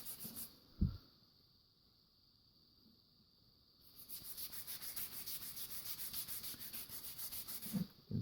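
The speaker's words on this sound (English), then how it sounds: "you can just keep it wet while you're sanding" A tanto blade being wet-sanded by hand, heard as a quiet lull and then a run of steady, rhythmic rubbing strokes that continue close by for several seconds.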